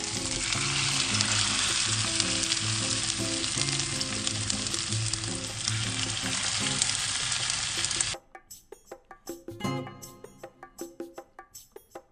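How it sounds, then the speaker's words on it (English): Iranian cutlets shallow-fry in hot oil over medium heat, giving a dense, loud, continuous sizzle for about eight seconds that then cuts out, leaving only scattered quiet clicks and knocks. "I'm going to shallow fry them on medium heat."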